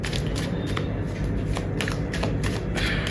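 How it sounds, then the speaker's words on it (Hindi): Tarot cards shuffled by hand in a continuous, steady riffling and sliding rustle, close and fairly loud, with no voices over it. "एंड जब तक मैं कार्ड शफल कर रही हूँ"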